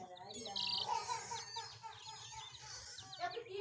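Hen clucking and chirping close by, a steady run of short calls mixed with other bird sounds, with faint background voices.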